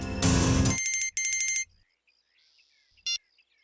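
A phone ringing, with a loud burst followed by repeated bright electronic ring tones, then a pause and one short final ring, close and clear with no talking.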